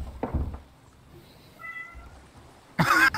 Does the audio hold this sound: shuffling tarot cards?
no